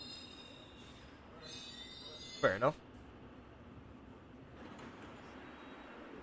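A London Underground Metropolitan Line S-Stock train in Train Simulator 2020 rumbles faintly at a distance under a voice, with a sharp squealing screech in the middle of the stretch.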